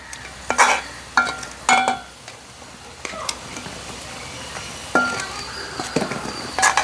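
Fried thenkuzhal being turned and stirred in sugar syrup, giving a series of sharp clinks and scraping knocks at irregular intervals over a soft sizzling background.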